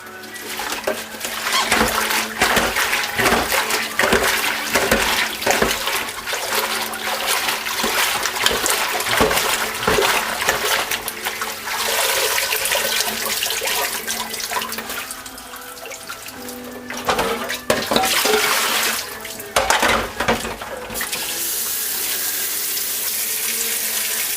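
Running tap water pours steadily into a sink while callaloo leaves are washed, a continuous splashing rush with scattered clatter and brief pauses, close and fairly loud, with occasional speech in the background.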